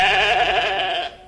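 Dolly the cloned Finn Dorset sheep gives a single drawn-out, wavering bleat, close and clear, lasting about a second before cutting off.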